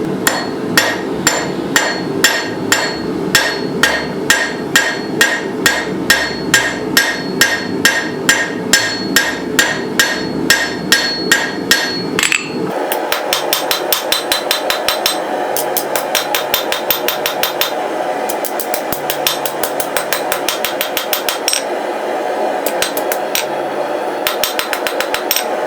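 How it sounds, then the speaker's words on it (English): Hammer forging thin hot rebar into a snake shape, with glancing blows from the rounded hammer face: a steady run of loud, close metallic strikes, heavier and ringing at first, then quicker, lighter taps on the anvil. "I'm just doing glancing blows with the rounded face of my hammer to help draw that material out to the sides"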